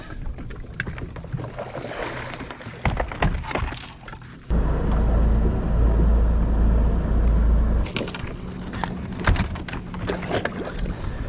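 A boat outboard motor idles out on open water, a steady low drone with wind and water splashes around it, close and fairly loud, no one talking.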